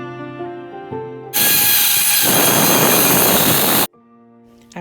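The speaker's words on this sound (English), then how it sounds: "I moved on to my rotary tool to give a more rounded effect." Rotary tool rounding the edges of a small wooden craft piece, a loud steady high-pitched whine that runs for about two and a half seconds and then cuts off abruptly, with quiet background music before and after.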